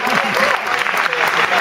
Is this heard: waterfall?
no